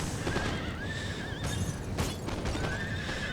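Cavalry horses whinny repeatedly amid battle noise in the Napoleonic war strategy game Napoleon: Total War, Peninsular Campaign, with shrill wavering neighs over a dense rumble of combat.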